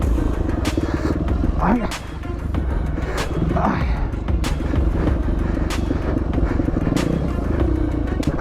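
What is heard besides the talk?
motorcycle engine during a race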